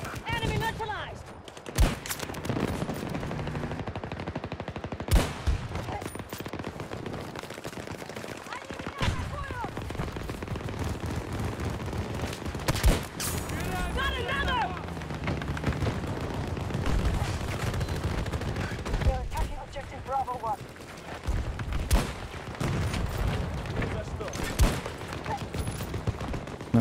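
Gunfire from the video game Battlefield 2042: sharp sniper cracks spaced every few seconds over steady battle noise and bursts of weapon fire, with voices speaking intermittently throughout.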